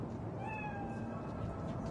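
A single drawn-out cat meow in Cyberpunk 2077, fairly clear over a low steady ambient hum, rising slightly and then trailing off.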